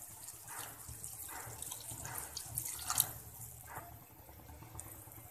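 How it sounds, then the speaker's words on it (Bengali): A cup of water is poured into chicken cooking in a pan, faint liquid splashes and drips in a few soft bursts, quiet and close. "এখন আমি এখানে দিয়ে দিচ্ছি 1 কাপ পানি।"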